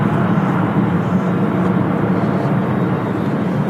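A Qatar Airways Boeing 777 jet rolls along the runway at Manchester Airport, a loud, continuous broadband rumble and roar held steady throughout, with no talking.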